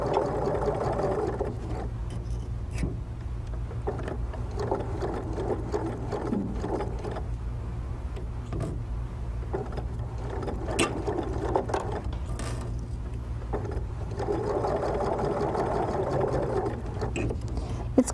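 Sewing machine stitching a Churn Dash quilt block, giving a steady mechanical whirring with rapid needle ticks that run through the clip with brief pauses, close and moderately loud, with no voices.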